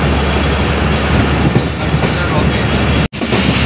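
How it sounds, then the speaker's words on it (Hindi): The Hazara Express passenger train, riding in the last coach, rolls steadily along the rails through Dhabeji railway station at speed, with a constant loud rumble and rattle, broken briefly by a sudden gap near the end. "और ट्रेन धाबीजी रेलवे स्टेशन से अच्छी स्पीड से पास हो रही है"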